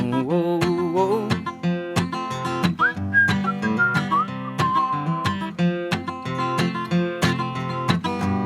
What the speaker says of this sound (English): I love a good whistle song